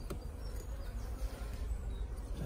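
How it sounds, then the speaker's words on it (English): A low, continuous buzzing of many honeybees close by at an open hive during inspection, droning steadily with small fluctuations and no talking. "In here you can see there are lots of bees."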